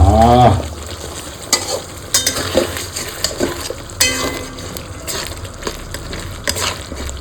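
Fish curry simmering in a pan is stirred, a spatula clinking and scraping in irregular strokes over a steady close sizzle, with a louder burst at the very start.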